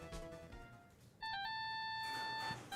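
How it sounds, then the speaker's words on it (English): A lost mobile phone rings with an electronic ringtone, a clear melodic tone pattern that starts partway through and sounds loud and close, steady after a quieter opening. "Ah, yes, that ringtone again."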